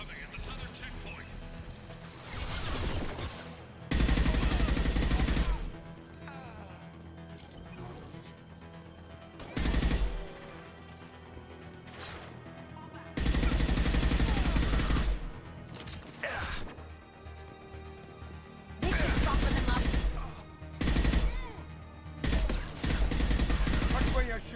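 Bursts of video game gunfire from Mass Effect 2 at a guarded checkpoint under attack: several loud, sustained volleys of rapid shots separated by quieter gaps, with combat chatter and voices talking between the bursts.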